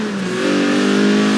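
Lotus Elise with a 1.8-litre engine in the Forza Horizon 4 racing game revs hard and steadily climbs in pitch, a loud, continuous close engine drone with no talk over it.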